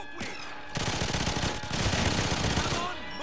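Rapid automatic gunfire in GoldenEye 007 Reloaded on PS3, a sustained burst of dense, loud shots that starts abruptly and runs for about two seconds before tailing off.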